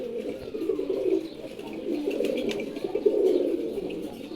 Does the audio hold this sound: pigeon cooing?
yes